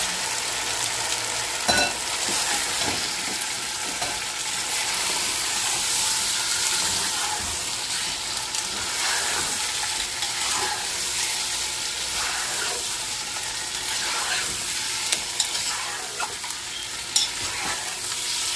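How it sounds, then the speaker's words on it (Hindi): Chicken sizzles and fries in ginger garlic paste in a hot pan with steady crackling hiss, punctuated by occasional scrapes and clinks of a spoon stirring, no voices. "अदरक लहसुन में चिकन को भूनना पड़ेगा"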